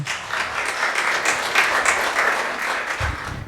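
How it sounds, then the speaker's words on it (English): Steady applause from the audience at a school music and drama show fills the room, even and sustained throughout with no voices standing out. "We need to clap for you."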